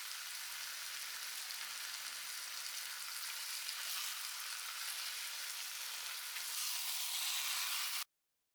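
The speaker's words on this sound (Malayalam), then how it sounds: "ചിക്കൻ നന്നാക്കി ഇളക്കി ഉപ്പ് അത് ഇട്ട് കൊടുക്കാം." Chicken pieces coated in masala sizzle in a pan, a dense, even frying hiss that holds steady and swells slightly before cutting off abruptly, with no one talking.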